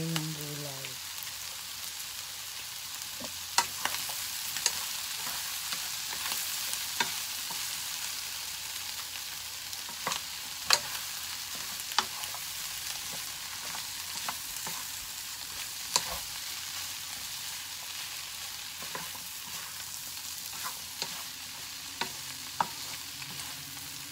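Vegetables stir-fry in a pan for palabok, a soft, constant sizzle running throughout with scattered sharp clicks and scrapes of a utensil stirring against the pan.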